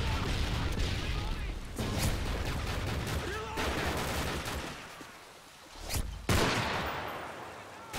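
Video game gunfire rattles in dense, continuous bursts, loud and close, with brief pauses between volleys and a voice talking over parts of it.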